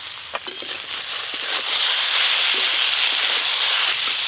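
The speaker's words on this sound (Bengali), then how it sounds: "আলু আর কোচমুড়ো এই যে ভালো করে একটু ভাজা ভাজা করে নিয়েছি।" Potatoes and taro stems frying in a pan give a loud, continuous hiss of sizzling oil, with a few clattering stirs near the start before the sizzle settles evenly.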